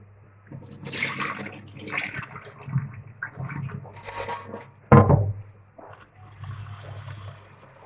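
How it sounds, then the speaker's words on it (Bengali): Rice being washed in a bowl of water: close sloshing and swishing in bursts, with a sharp splash and pour midway, then quieter trickling and rinsing. "চালটা আমরা ভালো করে ধুয়ে নেব। পরিষ্কার করে দিয়ে দেবো।"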